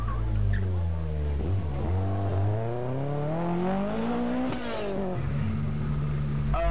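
A Lancia rally car races during a 1983 Belgian rally, its engine loud and near, revving up and down through the gears with rising and falling pitch, no talk over it.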